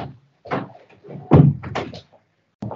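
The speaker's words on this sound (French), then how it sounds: "attends, je ferme la porte" A door is pushed shut indoors at home, heard as a series of close, woody thumps and rattling clunks, the loudest bang in the middle and a last short knock after a pause.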